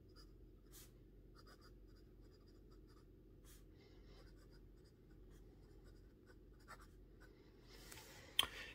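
A Cross Peerless 125 fountain pen nib scratching lightly across paper, with faint intermittent scritches and small taps over a steady low hum, ending in a couple of sharper strokes.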